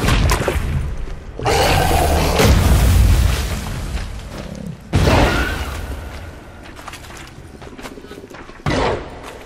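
Grapeshot bombs blasting in The Witcher 3: Hearts of Stone during the Toad Prince fight: three heavy booms, each with a loud broadband burst followed by a rumbling decay.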